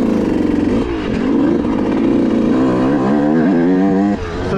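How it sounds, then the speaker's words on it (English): A Yamaha YZ125 two-stroke dirt bike with raised cylinder port timing, a higher-compression head and race gas revs hard and close. Its buzzy engine note rises and falls through several throttle blips, loud and alone. "So this bike really screams in the mid-range."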